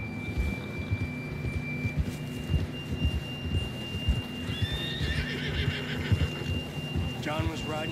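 A horse in Red Dead Redemption gives a whinnying neigh near the end, with loose hoof clops and ambient rumble throughout, while voices talk over it.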